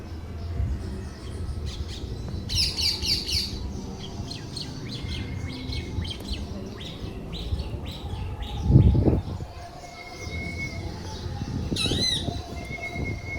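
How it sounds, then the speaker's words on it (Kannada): Outdoor birdsong with scattered chirps and a few sharp, squawky calls from a parrot over a low rumbling background, moderately distant, at the Kanchi Kamakshi temple. "ಪ್ಯಾರೆಟ್ ಕೂತ್ಕೊಂಡು ಅದೆಷ್ಟು ಚೆನ್ನಾಗಿ ಒಂದು ಸೌಂಡನ್ನು ಮಾಡ್ತಾಯಿದೆ"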